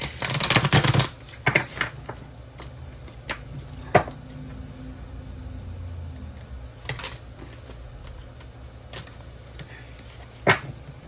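Stiff What's the Vibe oracle cards being shuffled in bursts of riffling and flicking, with sharp taps and card slaps scattered across a quiet room.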